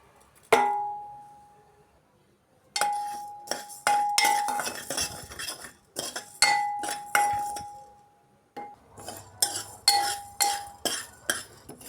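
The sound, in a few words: coriander seeds and cumin being dry-roasted in a pan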